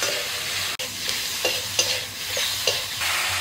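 Salt, turmeric and red chilli powder are stirred into chopped tomato frying in a pan, a steady sizzle broken by several soft scrapes of the spoon against the pan, with no voices.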